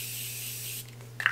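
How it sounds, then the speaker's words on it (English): A short continuous hiss of setting spray misted onto a makeup palette, close and steady, then easing off, with a small rustle at the end. "I like to spray it."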